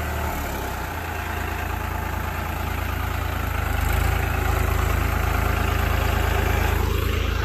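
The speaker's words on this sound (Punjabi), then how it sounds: "ਇੱਥੋਂ ਦੀ ਲੰਘਾ ਲੈਂਦੇ ਹਾਂ ਟਰੈਕਟਰ ਖਾਲ ਉੱਤੋਂ ਦੀ" A farm tractor engine idles with a deep, steady rumble close by as it crosses a water channel in a field, the drone swelling a little midway with no speech.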